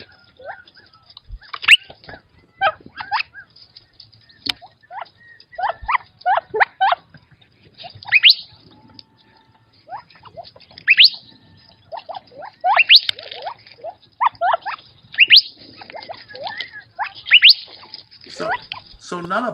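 Gambel's quail calls play as a recording, a long series of sharp, repeated chirps and clucks in irregular bursts, fairly loud and close, with brief pauses between phrases.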